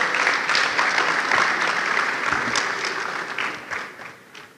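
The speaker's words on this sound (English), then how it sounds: "Let's give all our online audience a round of applause." A conference audience applauds in a full, steady round of clapping that gradually thins and fades out, close and lively, with no talk over it.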